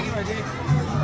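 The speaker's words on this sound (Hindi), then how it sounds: "ये देखिए भारी संख्या में श्रद्धालुओं की भीड़" Dense hubbub of a large crowd of devotees on the path to the Dungar Balaji hilltop Hanuman temple, steady murmuring babble close around with no single voice standing out.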